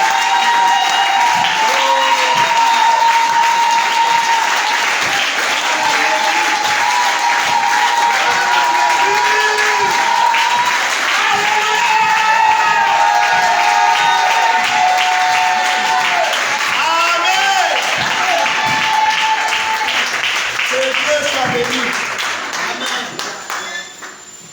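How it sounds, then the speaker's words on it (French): A church congregation applauds and cheers during a morning service, loud continuous clapping with raised voices and cries running for over twenty seconds before tapering off at the end. "Voilà pourquoi nous voulons ce matin encore faire une offrande d'acclamation pour le Seigneur."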